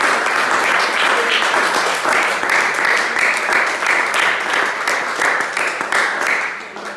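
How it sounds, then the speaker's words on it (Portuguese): A church congregation applauding loudly, sustained thick clapping with rhythmic pulses and some voices mixed in, easing off slightly at the very end. "Você pode dar um forte aplauso, Senhor Jesus?"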